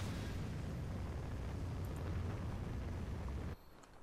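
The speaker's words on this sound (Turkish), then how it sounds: "Adam füze yağdırıyor. Benim kafama düşüyor." Missile explosions in Call of Duty: Ghosts multiplayer form a continuous, loud low rumbling roar that cuts off abruptly near the end, leaving a quieter hiss.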